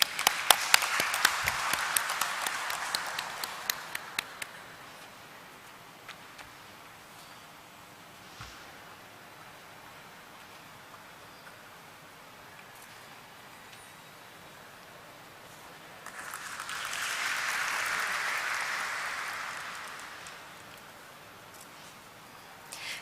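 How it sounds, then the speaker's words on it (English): Audience applause at a stock exchange listing ceremony for a laboratories company, clapping loud at the start and fading out, then a second moderate round of applause swelling and tapering near the end, with quiet room tone between. "A huge round of applause, please."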